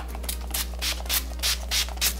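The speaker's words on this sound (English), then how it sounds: "This is Wet n Wild Photo Focus Natural Finish Setting Spray, just to set everything in place" Wet n Wild Photo Focus Natural Finish Setting Spray is pumped onto a face in about six quick, breathy hisses at a steady rhythm, close and fairly loud over a low hum.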